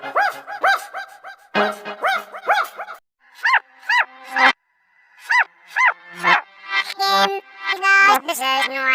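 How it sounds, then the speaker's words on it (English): A sound-effects sequence of a dog barking, with a run of short, sharply pitched yelps and barks in quick rhythmic bursts that pause briefly and then return, close and loud. "What sound does a dog make?"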